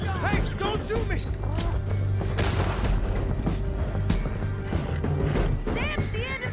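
Gunfire and booming shots from a Red Dead Redemption 2 canyon chase on horseback, dense and continuous beneath shouting voices and a steady music bed.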